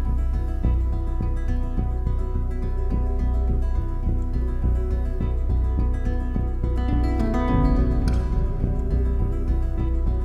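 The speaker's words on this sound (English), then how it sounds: "You can hear a little rolling arpeggio." A guitar rolls through a steady arpeggio over a full, dense band mix, continuous and loud for the whole stretch.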